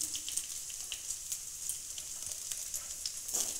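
Carrots dropped into vegetables frying in a pan, a bright continuous sizzle with soft crackles and occasional stirring clicks, close up and without speech.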